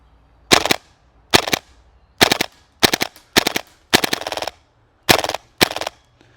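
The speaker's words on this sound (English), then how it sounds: "Let's grab a new mag, throw this guy into place, and try some full auto." A Tapp Airsoft PP2K HPA-adapted airsoft gun fires in full auto as eight short, sharp bursts separated by silent gaps, each a quick rattle of pneumatic shots heard close and alone.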